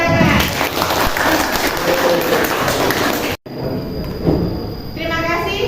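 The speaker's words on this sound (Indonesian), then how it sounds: "Tepuk tangan." Students in a teacher-training classroom lesson clap together in a dense, steady burst for about three seconds, which cuts off abruptly into a quieter stretch with lighter noise and a voice.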